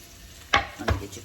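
Onion going into olive oil in a well-seasoned Dutch oven on a stovetop for chili, with two sharp scrapes or clatters over a faint low sizzle, close and brief.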